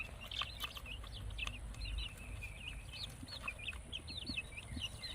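Young Wyandotte chicks cheep and peep continuously in a steady flurry of small, high calls, fairly faint over a constant background hiss with no voices.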